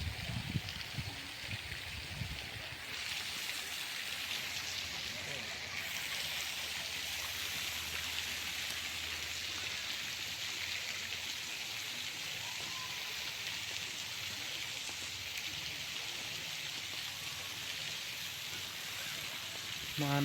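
Water spray at a water park in Keonjhar makes a continuous, even hiss like heavy rain, moderately close and steady from start to finish.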